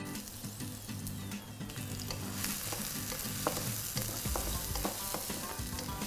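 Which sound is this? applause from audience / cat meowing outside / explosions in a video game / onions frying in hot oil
onions frying in hot oil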